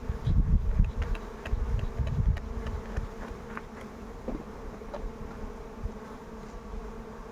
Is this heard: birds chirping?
no